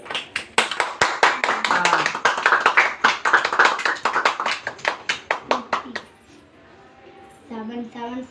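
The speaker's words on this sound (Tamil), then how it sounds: "கை தட்டு கை தட்டு." Hands clap rapidly and steadily at a home birthday party right after the birthday song, a crowd of people applauding together for several seconds before the clapping stops and voices take over.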